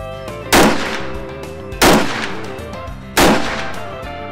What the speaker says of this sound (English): we're going to shoot her down there at 100 yards and see which one groups the best